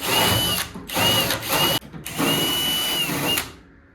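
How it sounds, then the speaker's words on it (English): A power drill with a reamer bit cleans out spot welds on the body of a 1979 Plymouth Volare wagon, running in loud whining bursts with brief stops between them. "We're gonna run that in these spot welds down these holes."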